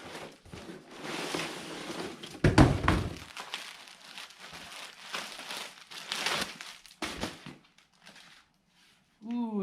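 A package holding a rare Mitsubishi Galant A-pillar trim part being opened, with crinkling wrap, knocks and thunks of handling in bursts, fairly close and moderately loud.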